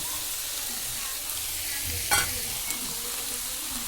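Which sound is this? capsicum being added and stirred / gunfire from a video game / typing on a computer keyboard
capsicum being added and stirred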